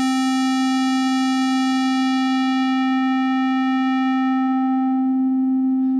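A synthesizer square wave holds one steady pitch while its low-pass filter cutoff sweeps downward, so the bright buzzy tone gradually dulls toward a pure sine-like hum, continuous and alone.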